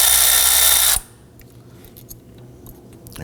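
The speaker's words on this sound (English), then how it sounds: "that's held in place with a 10mm bolt. I'm just going to crack that one free. And loosen and remove that bolt." A 10mm bolt on a 2005-2009 Subaru Legacy 2.5L H4 is loosened while the power steering pump is replaced: a loud whirring burst of about a second from a power tool stops abruptly, followed by faint metallic clicks and handling noises.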